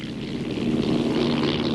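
Patrol airplanes droning over the Atlantic Ocean give a steady, low propeller-engine hum that swells slightly, loud and continuous without any voices.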